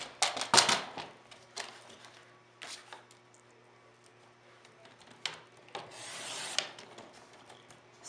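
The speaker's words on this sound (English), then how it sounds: "I'm just going to cut these into 12-inch sheets, just trim the excess" Scrapbook paper being trimmed down to 12-inch sheets with a paper trimmer, giving a few short rasping cutting strokes separated by quiet pauses, close and fairly soft, with no talking.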